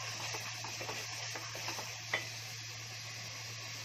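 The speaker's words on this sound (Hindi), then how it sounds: "अब इसमें अपना चिकन डाल देंगे।" Chicken pieces going into fried ground masala for a Konkani-style chicken gravy, a steady close sizzle with stirring scrapes and one brief clink of a utensil against the pan.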